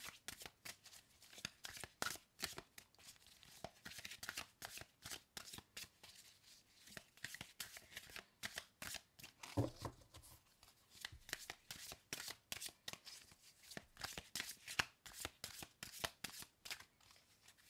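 Tarot cards being shuffled and cut by hand, heard as close, crisp riffling bursts repeating in a quick, uneven rhythm for the whole stretch, with no talking.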